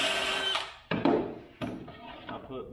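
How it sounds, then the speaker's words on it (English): A power drill boring holes in the plywood of a tool trailer, close and loud, with bursts that stop and restart. "Always make sure you're drilling your holes on the bottom"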